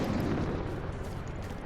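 Airstrike explosion in the military shooter Squad, a sustained low rumbling boom with broad noisy spread, fairly loud and continuous, no voices.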